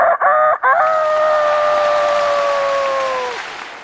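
A man on stage in a comedy sketch vocally imitates a rooster crowing: two short clipped calls, then one long, loud, sustained crow that tails off.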